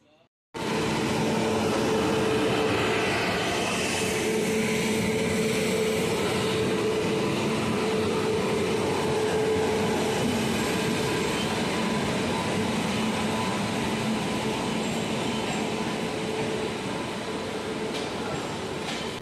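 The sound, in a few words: Prayagraj to Howrah special train leaving Burdwan Junction station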